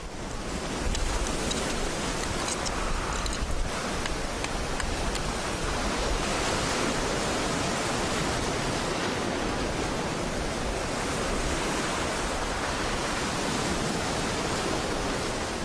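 Sea waves washing onto a rocky shore between tides, a steady loud broadband wash of surf that fills the whole stretch without pause and with no voices.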